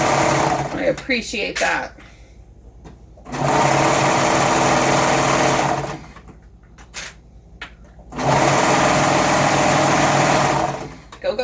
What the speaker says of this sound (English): That's a good serger.